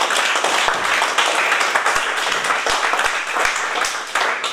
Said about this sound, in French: On peut l'applaudir, elle est là.